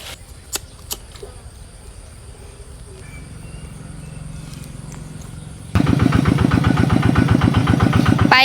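A tractor engine starts up after a stretch of faint rural background with a few knocks, then runs with a loud, steady, rhythmic chugging.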